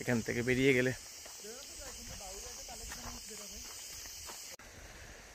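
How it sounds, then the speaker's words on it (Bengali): Crickets chirp in a forest in the Dooars of North Bengal, a steady high buzzing drone running through the whole stretch, partly under a man's brief speech at the start and over vehicle or walking noise. "এই ঝিঝি পোকার ডাক কিন্তু আর পাওয়া যাবে না"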